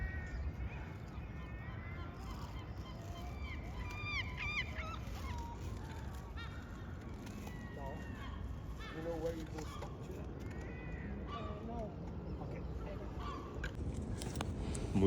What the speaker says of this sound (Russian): Чайки, конечно, орущие